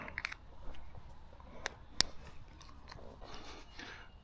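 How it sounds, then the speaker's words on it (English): Pliers crunching and smashing a tape tube, a few sharp cracks and snips with one pronounced snap, outdoors and fairly quiet. "So what I'm going to do is just smash it with these pliers."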